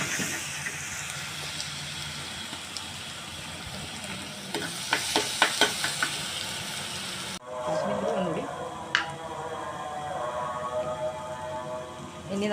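Crushed ingredients and fenugreek sizzle and get stirred in a pan for a mackerel curry, a steady frying hiss with a few sharp scraping strokes, then a quieter sizzle after a sudden drop.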